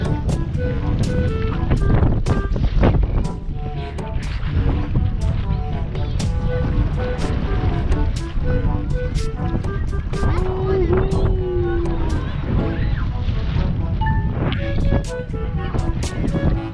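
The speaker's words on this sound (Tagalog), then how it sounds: "Mahangin nga lang, mahangin." Wind blusters steadily against the microphone on a beach, with scattered thumps and distant voices mixed into the constant rushing noise.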